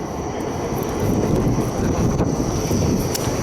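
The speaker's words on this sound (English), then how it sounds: "Oh, I hear a train." A subway train pulls into North Side station in Pittsburgh, filling the space with a loud, steady rumbling roar that builds slightly and holds throughout.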